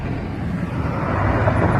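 Truck cruising along a country road with the windows down, a steady heavy rumble of engine, tires and rushing wind from inside the cab, loud and continuous.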